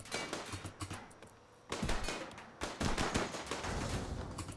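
Gunfire aimed at a mech in a video game, bursts of rapid shots in clustered volleys separated by a short lull, loud and close with a dense crackling texture.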